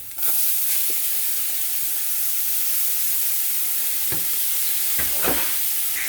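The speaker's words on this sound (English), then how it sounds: "So the next thing I'm going to add now is my onions, the one that I grated" Grated onions sizzle in hot olive oil in a pan for a meatless stew, a steady loud frying hiss with occasional stirring scrapes and sharper crackles near the end.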